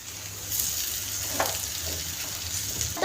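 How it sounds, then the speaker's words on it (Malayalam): Cardamom pods and a cooking mixture with coconut being stirred in a pan, giving a soft steady sizzle with faint scraping, close and fairly quiet throughout. "ഇതുപോലെ നന്നായിട്ട് ഇളക്കി കൊടുക്കാം"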